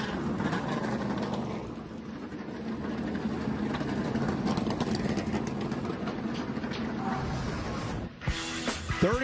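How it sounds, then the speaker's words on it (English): Many NASCAR race car engines idle together at a superspeedway before the Goodyear 400. They make a steady, dense low rumble that continues throughout, and a brief sharper burst comes near the end. "Drivers, start your engines."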